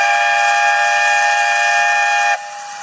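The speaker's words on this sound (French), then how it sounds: "Ça, c'est le son du RER A qui vous amène à la gare de la Défense à Paris" RER A commuter train near La Défense station in Paris, a loud steady whining tone with strong sustained harmonics, the shrill hum cutting off sharply near the end and leaving a quieter rumble.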